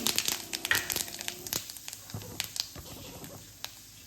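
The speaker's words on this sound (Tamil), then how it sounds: "அடுப்பில் கடாய் போட்டு எண்ணெய் விட்டுருக்கேன். கடுகு, உளுந்தம்பருப்பு" Mustard seeds and urad dal frying in hot oil in a kadai: soft, dense crackling and popping with scattered sharp pops, fairly faint and close, fading slightly toward the end with no talking.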